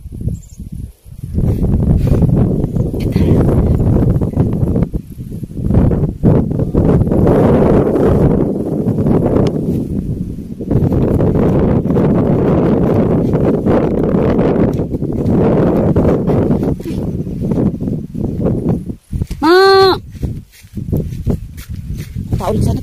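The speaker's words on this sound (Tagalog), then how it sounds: "Ay, sarap din yung hangin." Wind gusts across a microphone outdoors in the Philippine countryside, a loud, continuous rushing roar with rustling, partly under a voice, and a brief whistle-like tone near the end.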